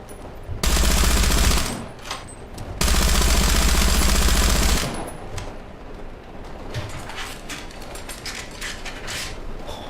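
Two loud, sustained bursts from a DShK heavy machine gun in War Thunder with a heavy low rumble, followed by quieter clicks and metallic clatter of the weapon reloading.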